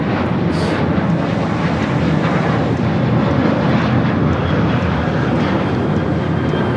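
A Southwest Airlines Boeing 737-700 taking off from LAX for El Paso produces a loud, constant jet roar that fills the whole short stretch without pause.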